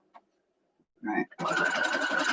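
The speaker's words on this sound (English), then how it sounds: "to go ahead and sew these together real quick so that we have it" A sewing machine stitches quilt block pieces together for a 9 patch block, starting with a short burst and then running in a steady, loud, close whirring hum after a few small handling sounds.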